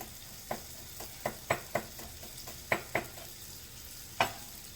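Garlic chili shrimp with thinly sliced serrano is tossed and stirred in a hot pan, giving a faint steady sizzle broken by about a dozen sharp clacks of the tool against the pan.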